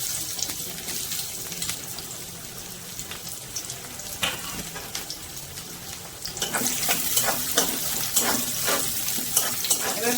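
Chopped onions hit hot mustard oil in a wok, a steady soft sizzle swelling abruptly into a louder, crackling fry with sharp spits and pops over the second half.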